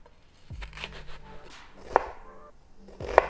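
A knife slices through a pepper on a cutting board in a few sharp, close chops with a crisp click at each stroke, while small clatters sound between cuts and no one speaks.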